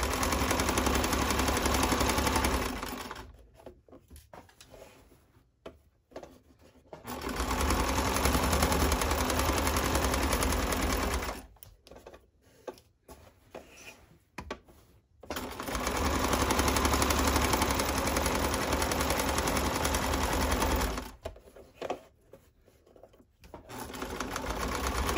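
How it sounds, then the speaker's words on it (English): Sewing machine stitching the hem of boxer shorts, three loud bursts of rapid mechanical chattering separated by quieter pauses with faint handling sounds, the last run ending in a short backstitch. "I'm gonna do the same exact sewing of the hem on the other leg."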